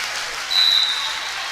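Crowd noise rises in a gym at a high school volleyball match, a steady broadband roar that swells slightly midway, with a brief whistle-like tone over it and no clear talk.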